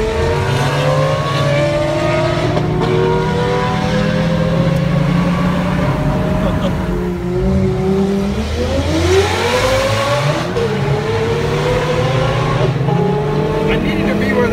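Lamborghini accelerating hard in a highway drag race, its engine tone climbing and shifting through gears, loud and close with steady road roar throughout.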